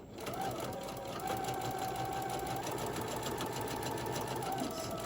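A sewing machine stitches fabric for a bear-themed apron, giving a steady fast whirring hum throughout with a faint mechanical rattle, close and fairly quiet.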